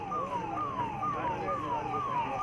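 A fire brigade vehicle's siren wails through a repeating falling tone, cycling about four times in quick succession, loud and steady against a noisy street background.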